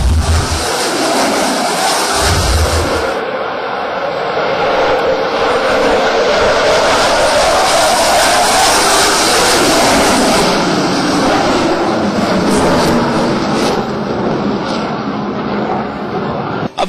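A Rafale fighter jet roars overhead at the Aero India air show, a loud sustained engine rumble that swells and shifts as it passes, with no talk over it.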